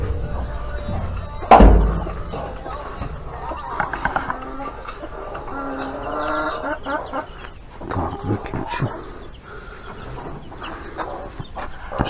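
Chickens cluck in a backyard coop in rural Ukraine, a scattered mix of close clucks and calls after a sharp bang, like a door, early on.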